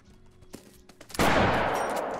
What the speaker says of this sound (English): A level 5 bison taken down with the 10 gauge lock.